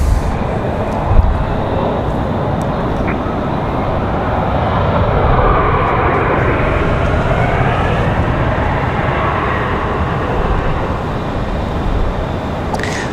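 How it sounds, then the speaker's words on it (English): Republic Airways Embraer E175 in Delta colours landing at Raleigh-Durham International Airport, a steady broad jet roar that holds loud and even throughout with no talking. "That Delta is Republic Airways 5820 coming in from LaGuardia, New York."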